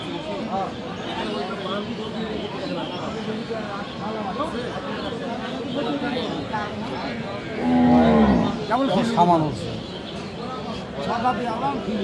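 A Sahiwal cow gives a single loud, drawn-out moo partway through at the Aftabganj cattle market in Dinajpur, amid steady talk and crowd chatter.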